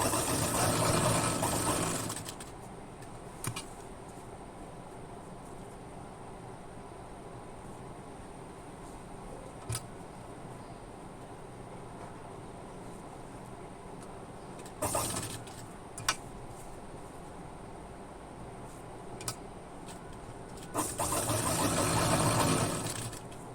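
A sewing machine stitching a kurti, whirring loudly in two short runs at the start and end, with quiet handling clicks and light knocks between.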